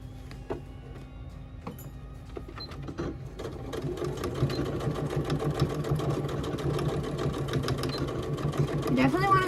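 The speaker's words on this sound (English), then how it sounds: "I'm gonna sew over the whole thing" Close by, a sewing machine runs in a steady mechanical whir as it stitches over a folded fabric edge. The stitching starts with scattered clicks and handling, then builds and holds, with a voice talking over it.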